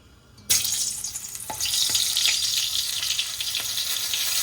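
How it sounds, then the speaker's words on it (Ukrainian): A slice of onion dropped into smoking-hot oil for lamb plov bursts into loud, steady sizzling and crackling, close up, with a few faint clinks of stirring. "Дуже сильно розігрів олію, прямо ж пішов такий вже маленький димок, і перш ніж класти сюди цибулю, покладу отакий обжарю ломтик цибульки"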